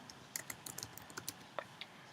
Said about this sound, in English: Let's say I'll type hello world